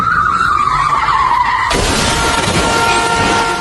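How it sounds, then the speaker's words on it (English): Race cars spinning out and crashing on a track: a loud, close tire skid squeals for under two seconds, then breaks into a dense, sustained roar of impact, grinding and scraping metal that holds to the end. "Cars spin out, collide, and pile up in a massive crash across the track."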